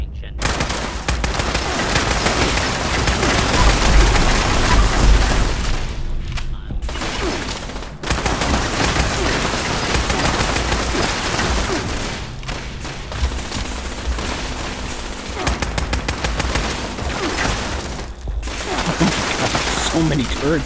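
Turrets firing in Fallout 76, a dense, near-continuous rattle of rapid automatic gunfire filling a room, with brief pauses between long loud bursts.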